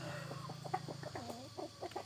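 Jungle fowl hens cluck softly and repeatedly close by, with a steady chorus of faint chick peeps underneath and a low background hum.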